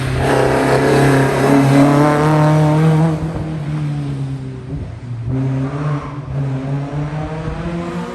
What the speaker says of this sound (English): To watch some of the cars coming past roughly the midway point on the hill climb